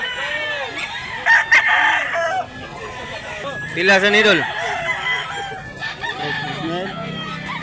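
A rooster crows loudly nearby, with hens clucking around it and someone speaking briefly between the calls.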